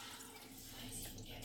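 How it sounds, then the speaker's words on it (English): Chicken stock pours into a cooking pot, a soft continuous liquid splash with faint drips, quiet and close for about a second and a half. "Then we're going to pour in 8 cups of chicken stock."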